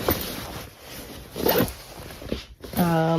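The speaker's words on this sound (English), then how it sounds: "I just thought I'd zip it up because it was already on." The zipper on a Babybee Luna stroller cover is pulled in a few short, raspy bursts, close and clear, with speech briefly at the end.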